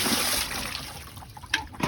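Water gushes and trickles out of a Frog Leap pool system's opened filter housing, a steady close splashing wash that ends in a few brief drips and spatters.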